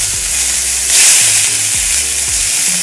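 Peppers frying on very high heat in a dry pan give a loud, continuous sizzle with a few scraping stirs, and there is no talking.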